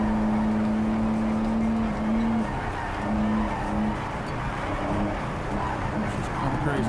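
Race car in the Project CARS 3 video game, a steady engine drone with a sustained high whine and intermittent tire squeal as it is pushed around the track, fairly quiet, under a voice.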